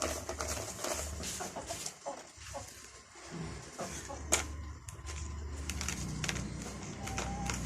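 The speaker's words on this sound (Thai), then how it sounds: "ไก่" Chickens cluck softly at a Thai backyard plant nursery, faint and intermittent against steady outdoor ambience and low rumble.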